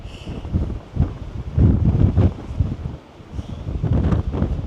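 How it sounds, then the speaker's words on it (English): Strong wind buffets the microphone outdoors in Wales in rough, rumbling gusts that rise and fall continuously, with no voices. "it's really windy at the moment"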